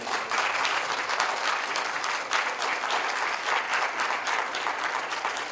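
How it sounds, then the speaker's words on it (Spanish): Sustained applause from an audience at a talk on emigration and the migrant caravan, a dense, steady wash of clapping that stays loud and even from start to finish with no voices over it. "le extiendo un fuerte abrazo y un fuerte aplauso"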